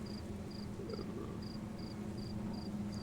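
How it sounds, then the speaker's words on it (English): Crickets chirp in the background in short, evenly spaced pulses, faint and steady over a low rumbling hum, with no talking. "you can hear the crickets chirping in the background right on cue there"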